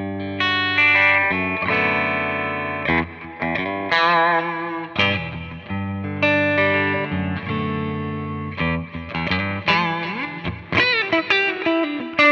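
Electric guitar played through a POD Go set to a clean amp with delay and reverb, ringing out in loud, sustained chords and melodic notes with echoing tails, heard alone without talk.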